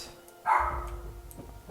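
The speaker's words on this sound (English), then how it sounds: "Linux is barking at something" A single dog bark rings out at moderate distance in a quiet room, followed by a short fading tail and low background rumble.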